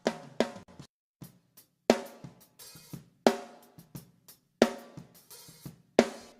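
A raw, unprocessed snare drum rings out alone in a drum-mixing session, with about a dozen sharp hits of varying strength in a loose groove, each crack decaying quickly into quiet gaps.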